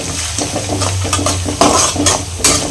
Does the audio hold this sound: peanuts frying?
yes